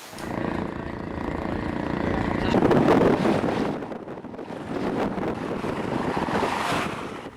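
Large sea waves wash and surge around a speedboat at sea, heard as a broad, continuous rushing roar with heavy wind buffeting the microphone and swells rising and falling in loudness.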